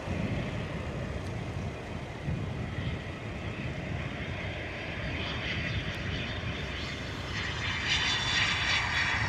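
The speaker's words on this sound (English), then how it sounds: "A little bit of corrections going on the final stages of the approach there for the Cessna." Cessna light aircraft on final approach, a steady droning engine with wind buffeting the microphone, the sound swelling slightly louder toward the end.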